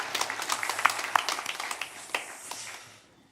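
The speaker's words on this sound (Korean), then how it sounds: "다시 한번 우리 큰 박수로 하나님 앞에 영광을 함께 드리겠습니다." Congregation applauding at a Sunday church service, a soft wash of many hands clapping that fades out toward the end.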